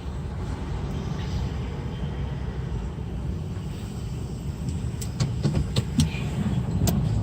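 A car travels along Indiana 27 toward Richmond, with a steady low road and engine rumble throughout and a few faint clicks and taps toward the end.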